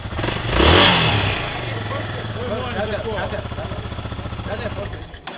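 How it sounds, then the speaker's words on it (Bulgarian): Several motorcycle engines rev loudly at a rally start, with a strong burst of throttle early on and a steady, rough mid-pitched engine drone afterward, heard amid shouting and crowd voices. "Дайте газ, дайте газ!"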